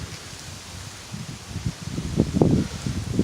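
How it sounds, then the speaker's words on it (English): Gusty wind pushing through rustling leaves during a California windstorm, a soft steady wash that builds louder in surges toward the end. "Windstorm."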